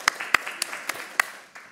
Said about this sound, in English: A big round of applause to our tech speakers